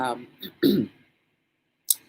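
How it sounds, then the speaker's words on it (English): A person coughing into a hand, a short muffled throat-clearing cough between bits of speech, then a faint click after a pause. "I coughed in my hand"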